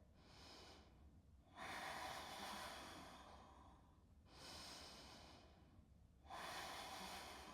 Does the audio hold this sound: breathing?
yes